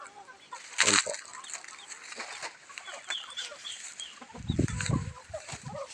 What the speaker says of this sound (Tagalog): Palawan native chicken.